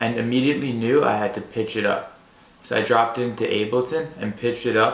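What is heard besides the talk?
None of the usual background noises is heard.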